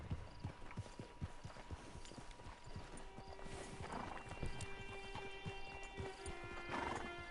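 Rapid clip-clopping horse hooves on hard ground in the video game Red Dead Redemption 2, with a couple of whinnies rising over them, steady and fairly close, under a faint hum.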